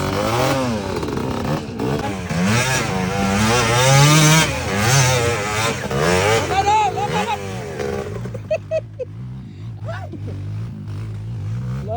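A motocross motorcycle engine revs hard and loud, rising and falling in pitch, then drops to a lower idle with short throttle blips.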